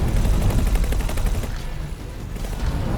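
Rapid weapon fire from a spaceship in the space game X4: Foundations, a loud continuous crackling stream that thins out midway, then picks up again briefly.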